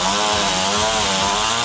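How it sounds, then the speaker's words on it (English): Someone is cutting grass nearby, a loud, steady, buzzing two-stroke motor drone that runs unbroken through the short stretch with no voices over it. "There's someone cutting grass around here"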